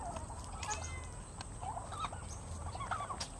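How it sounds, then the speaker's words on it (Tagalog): Farmyard turkeys gobble in repeated rattling bursts over a steady background hum, with nearby fowl also calling; several birds sound at moderate distance. "Tapos, mga pabo."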